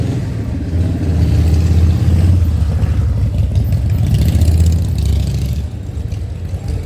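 Loud, steady engine rumble of motorcycles passing close by at Yonge and Dundas Square, swelling and fading over several seconds with a low, throaty drone.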